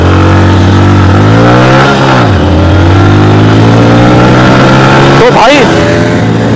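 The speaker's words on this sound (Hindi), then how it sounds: "भाई ने गजब भगाई है बाइक यार।" KTM Duke 200 and Honda Splendor motorcycles revving hard in a street drag race, loud engine notes climbing and falling through gear changes, with another bike sweeping past near the end while someone speaks briefly.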